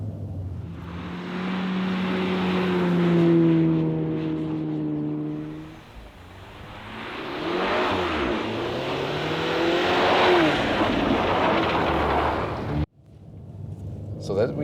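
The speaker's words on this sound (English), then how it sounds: "I'm here at the outs of the corner and accelerate out just a little bit, then I can slide out just a little bit with the ESC Sport" A VW T-Roc R in ESC Sport mode accelerates hard out of a corner and slides, its engine note rising steadily, dipping, then climbing again, loud and close, with talk over it and a sudden cut near the end.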